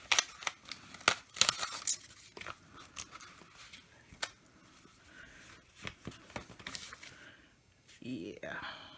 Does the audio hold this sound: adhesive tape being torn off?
yes